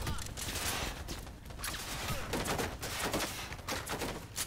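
Sustained gunfire in the video game Cyberpunk 2077, dense rapid shots layered with game effects that run continuously at steady loudness throughout.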